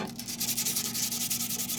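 Wooden duck call barrel rubbed with 150 grit sandpaper, a close, rhythmic scratchy rasp of quick back-and-forth strokes, steady and alone.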